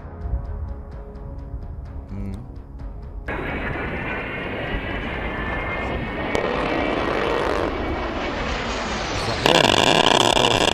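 An A-10 attack aircraft carrying a 30mm Avenger cannon gives off a steady, loud jet roar that swells and brightens toward the end, following a short tonal passage at the start.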